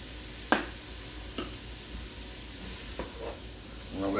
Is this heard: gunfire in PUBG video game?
no